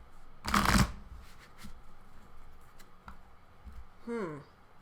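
Tarot cards shuffled by hand in one loud riffling burst near the start, followed by a few soft card taps and brief murmured vocal sounds.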